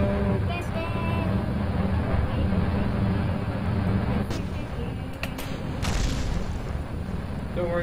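Rocket explosions in the game Kerbal Space Program give a dense, continuous rumbling roar with scattered sharp cracks, loud and sustained throughout.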